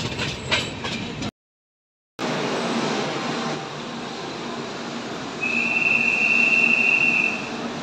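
A Humsafar Express train rolls on after leaving Mathura Junction, with a loud rumble and rattle of the carriages, a brief silent break, and then a sustained high wheel squeal joining the clatter.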